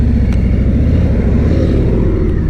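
A Harley-Davidson Freewheeler three-wheeled trike drones loud and close while underway, its engine rumble steady over a short stretch of riding, with no voices.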